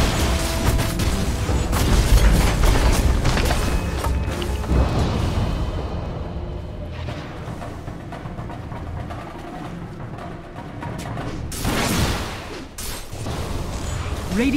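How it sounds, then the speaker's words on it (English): Dota 2 match in progress during a middle-tower attack: a loud, dense wash of booming, bursting and crashing game effects, heaviest in the opening seconds, easing to a steadier clatter and flaring again briefly near the end. "Radiant's middle tower is under attack."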